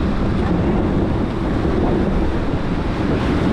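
Strong wind roars over the microphone during a J109 sailboat race, a loud, steady rush mixed with waves and water noise, with no talking.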